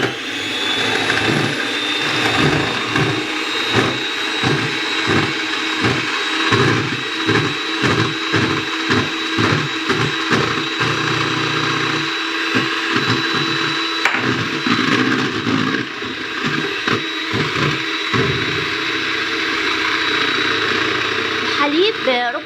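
An electric mixer beats cake batter for a Snickers cake as oil is added gradually, giving a steady motor whir with rhythmic pulsing from the beaters that persists throughout at a fairly loud, close level.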